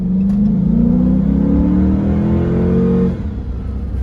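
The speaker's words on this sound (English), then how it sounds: "let me just accelerate real quick" A Chrysler 300 S accelerates, its engine note climbing in a loud, close rising drone heard from inside the car for about three seconds before dropping off abruptly.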